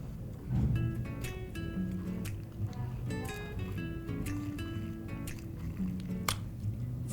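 Dirty water is stirred up to mix it, giving close, wet sloshing and squishing with small drips and gurgles in an uneven rhythm.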